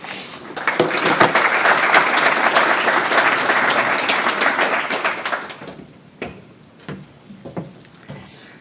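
Audience at an annual forum's opening session applauding a speaker onto the stage, dense sustained clapping from many hands that swells, holds for several seconds, then thins to scattered claps and footsteps-like knocks in a large room.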